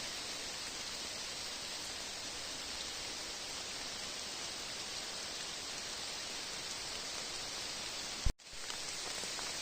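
Rain falling hard through a Carpathian forest in April, a constant close hiss of drops on foliage, interrupted near the end by a short sharp knock before the downpour resumes.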